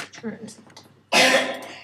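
Soft talking gives way to a single loud, harsh cough or throat clear near the end.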